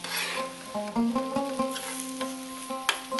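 Lamb mixture with Worcestershire sauce, lamb stock and chopped plum tomatoes sizzling in a pan, with steady crackling and intermittent scraping stirs over a faint tonal hum.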